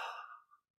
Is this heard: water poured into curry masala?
no